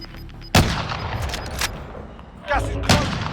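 Shotgun blasts in Call of Duty: Warzone, four loud, close shots spaced unevenly over a few seconds with quieter game ambience between them.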